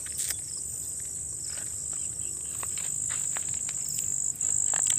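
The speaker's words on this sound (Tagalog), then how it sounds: "Puro huni lang, huni ng ano," Crickets chirp steadily in a large rural pasture in the Masbate countryside, a constant high shrill trill with faint scattered background noise and no talking.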